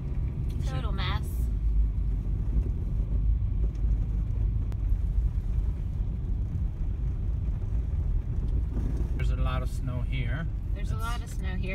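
A Honda Fit fitted with snow tires drives a snowy road: a steady, low engine and tire rumble from inside the cabin runs throughout, with someone talking at the start and end.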